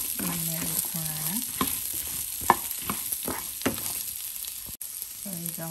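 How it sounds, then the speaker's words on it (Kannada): A medium-sized onion fries in oil with a continuous bright sizzle, while irregular spatula scrapes and clicks come and go over it at close range. "ಈಗ ಒಂದು ಮೀಡಿಯಮ್ ಸೈಜ್ ಈರುಳ್ಳಿ ಹಾಕ್ತಾಯಿದ್ದೀನಿ. ಸೊ ಇದನ್ನು ಸ್ವಲ್ಪ ಚೆನ್ನಾಗಿ ಎಣ್ಣೆ ಹುರ್ಕೊಳ್ಳೋಣ."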